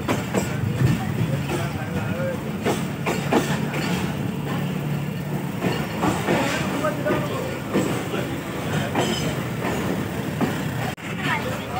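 A passenger train on the Mirpur to Rawalpindi route runs along the rails with a steady rumble and clatter inside the carriage, continuous and fairly loud.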